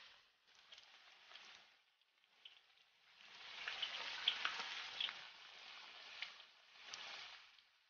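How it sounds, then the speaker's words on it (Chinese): Pork strips deep-frying in hot oil over low heat for Sichuan crispy pork, giving a faint, steady sizzle and crackle that swells midway and then eases. "炸至金黄色就可以了"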